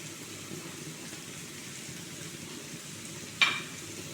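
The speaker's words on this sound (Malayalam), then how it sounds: "നല്ല ഒന്ന് വഴണ്ട് വരുവോളം ഒന്ന് ഇളക്കി കൊടുക്കുക." Salted onions fry and are stirred in a pan, a fairly soft, even sizzle heard close by, broken near the end by one sharp clack of a utensil against the pan.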